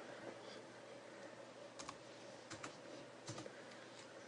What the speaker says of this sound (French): Et ici, je vais taper le code.